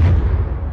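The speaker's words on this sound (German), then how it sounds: "Da ist er explodiert." A spaceship explodes in the Star Citizen space combat game, a brief deep boom with a heavy low rumble that fades quickly.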